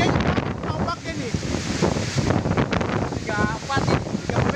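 Strong wind and rough ocean waves at a Papua shoreline during bad weather, a loud continuous roar with buffeting gusts across the microphone and surf churning beneath, while people talk faintly in the background.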